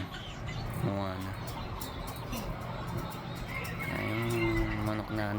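A chicken clucks in short bursts near the start and again toward the end, close by, with people talking in the background around it.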